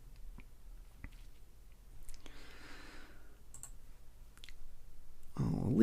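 A few sharp, isolated mouse clicks at a computer while editing an image, close and quiet over a low hum, with a brief shuffle and a louder handling noise at the end.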